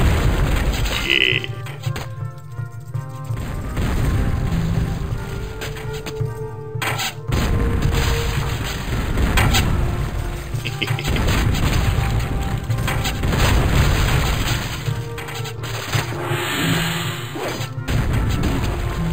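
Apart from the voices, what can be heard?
cannons exploding in video game Total Annihilation: Kingdoms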